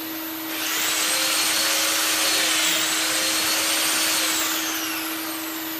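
A Mafell DD40P dowel drilling machine bores into wood with a loud, steady high whine that spins up, holds for several seconds and then tails off, close and alone with no talking.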